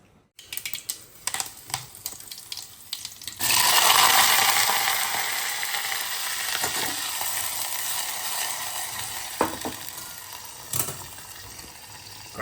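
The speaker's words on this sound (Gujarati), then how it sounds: "ઘણા દિવસે બટેટું વઘારું છું હું." Potatoes tempered in hot oil at home, starting with a few sharp clicks and pops before a loud, steady sizzle takes over and carries on with scattered crackles to the end.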